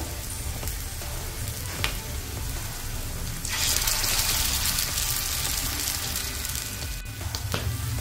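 Tikki patties shallow-frying in oil in a pan over low heat give a steady close sizzle, which swells louder and brighter about halfway through, with a few soft clicks scattered across the frying.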